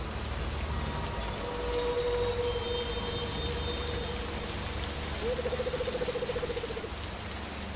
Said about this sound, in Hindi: थोड़ी देर में बारिश होने लगी।